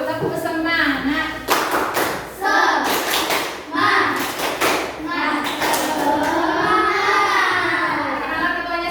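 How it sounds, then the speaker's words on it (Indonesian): A classroom group doing a rhythmic spirit clap (tepuk semangat), with sharp patterned bursts of hand claps and thumps that alternate with children's chanting voices, close and loud. "Beri tepuk semangat dulu. Tepuk semangat."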